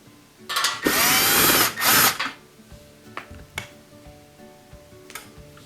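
Power driver spinning out Torx 15 screws on a Bosch dishwasher during a fill valve repair: two loud close whirring bursts, followed by small clicks and taps of parts being handled.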